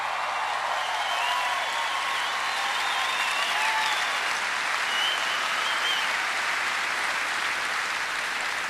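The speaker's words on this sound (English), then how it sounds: "Please give George McGovern a big round of applause." Dense, continuous applause from a large crowd at a political rally in Sioux Falls, South Dakota, honoring Senator George McGovern, loud and steady throughout with faint shouts and cheers woven in.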